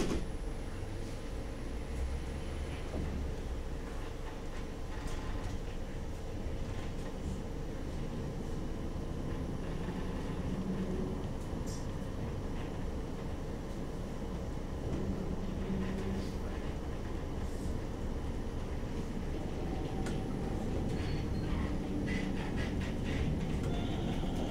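A West Midlands Metro CAF Urbos 3 tram departs from Grand Central, giving a steady low rumble and hum with faint rattles, heard quietly from on board.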